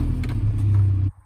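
A truck engine runs with a strong low rumble and steady idle, loud and close, then cuts off abruptly near the end.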